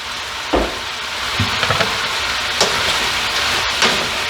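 Pancit noodles with cabbage and soy sauce sizzle steadily in a hot pan while being stirred. A few soft scraping clicks from the utensil rise over the continuous frying hiss.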